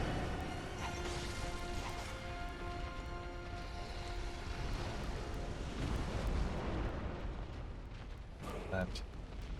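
A boss dog breathes fire in Bloodborne, a dense continuous roaring blast that stays loud across the whole stretch beneath layered game music and effects, with a voice talking over it.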